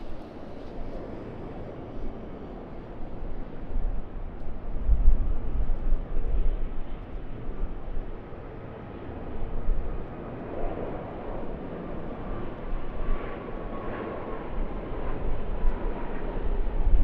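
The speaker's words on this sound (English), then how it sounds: "departing straight over top of us, and it is, in the meantime, A321neo to Auckland." An Airbus A321neo jet departs overhead from Sydney Airport's runway 34 right, its engine roar a steady, fairly quiet broadband rumble that swells slightly midway and holds throughout, with no voices.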